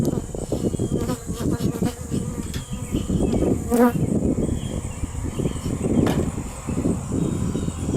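Agitated honeybees swarm loudly during a beehive inspection, a dense continuous buzzing drone close to the listener, with a brief louder whine of a bee passing near mid-clip.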